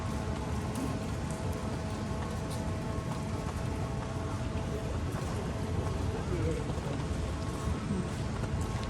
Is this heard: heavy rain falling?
yes